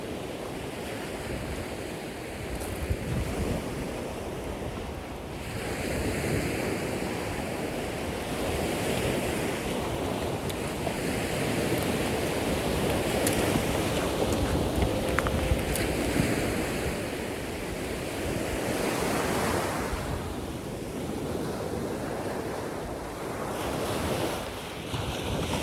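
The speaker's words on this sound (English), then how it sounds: "I'll give you a couple of minutes to just watch the sea" Waves roll and break on Bournemouth beach, a continuous wash of surf with gusting wind buffeting the microphone, swelling and easing over about half a minute with no talking.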